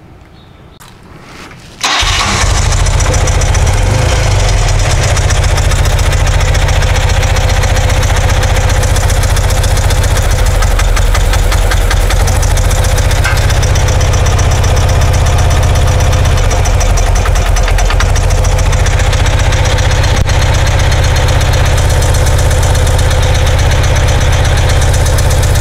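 A motorcycle engine fitted with Bing CV carburetors starts up and settles into a steady, loud idle close by, running evenly for the rest of the stretch with slight dips in rhythm.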